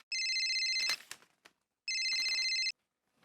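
Two electronic ringtone bursts from a telephone in a home sitcom scene, each lasting under a second with a short gap between them, loud and clear with some room noise.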